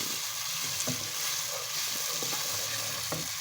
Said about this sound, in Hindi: अब हम इसमें डाल देंगे मोंगरे, इनको भी थोड़ा फ्राई कर देंगे बीच में